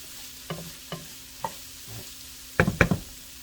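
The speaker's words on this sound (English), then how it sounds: "you can see that the vegetables have softened, and just going to give them a little stir" Softened vegetables for jambalaya are stirred in a pot with a few separate scraping strokes, then two louder clattering stirs near the end, over a faint background hum; close and without talking.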